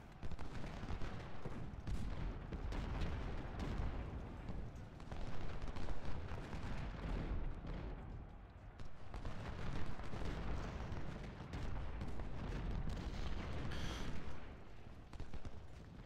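Artillery and musket fire rumble through a Civil War battle in Ultimate General: Civil War at Cold Harbor, continuous low booms and crackling volleys rolling on at a distance, fairly faint.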